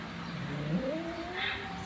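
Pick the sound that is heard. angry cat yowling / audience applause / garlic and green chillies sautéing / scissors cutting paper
angry cat yowling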